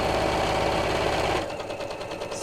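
A sewing machine stitches a drawstring box bag with a fast, steady mechanical whirr, close and loud, then slows and quiets partway through into a lighter rhythmic ticking.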